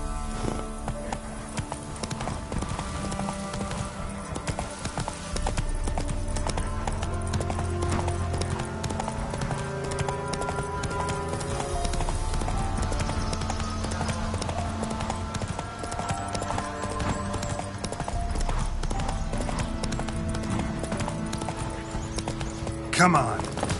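Roach the horse in The Witcher video game, galloping hooves clip-clopping in a fast continuous rhythm under game music, with speech over it throughout.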